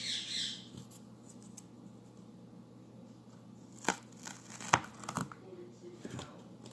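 Cheap masking tape rips away from an acrylic painting in a few sharp tearing and crinkling bursts, close by, over a soft room background with a voice briefly present.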